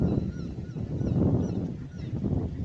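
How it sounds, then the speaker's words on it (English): Seagulls call along a windy coastline, several honking cries rising over a loud rumble of wind and surf, fairly close and repeated. "Seems to be more seagulls this area as well. Or they're louder."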